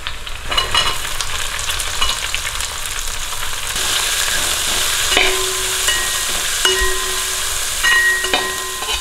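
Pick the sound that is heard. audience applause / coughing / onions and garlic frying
onions and garlic frying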